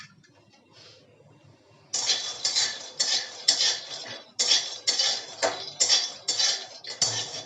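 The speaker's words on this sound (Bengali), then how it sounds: "চীনাবাদামগুলো একটু ভেজে নেব" Peanuts are stirred in a hot, dry frying pan, a spoon scraping in roughly ten rhythmic metallic strokes after a quiet start, close and alone.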